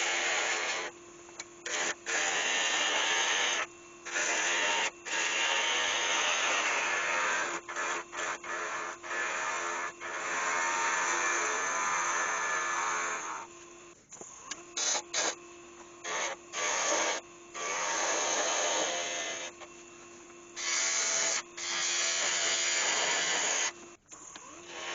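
A wood lathe spins as a tool cuts down a wooden goose head in short, repeated passes. Rough, rasping cutting noise starts and stops over a steady motor hum, moderately loud with no talking.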